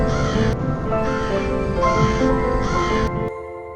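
A crow caws four times in a regular rhythm, harsh and close, each call about half a second long, then the sound stops.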